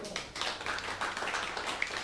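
Audience applause at a standup comedy open mic night, a moderate burst of mixed claps from a small crowd with uneven rhythm, a few sharper hits standing out, with some voices faintly underneath.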